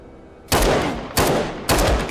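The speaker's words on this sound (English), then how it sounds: "I knew he was gonna shoot him" Three loud, close gunshots from RoboCop: Rogue City ring out at roughly even intervals, each a sharp blast with a lingering tail, and no talk over them.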